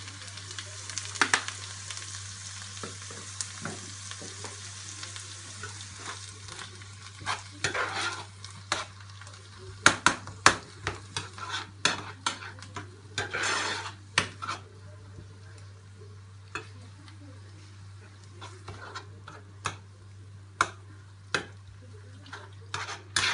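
Spinach pasta with turkey stirred in a frying pan, a soft continuous sizzle under repeated scraping and knocking of a utensil against the pan, irregular and close.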